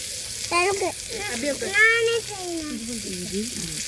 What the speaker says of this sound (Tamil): இப்போ தக்காளி போட்டு முடிச்சாச்சு கொஞ்சம் வேகறதுக்கு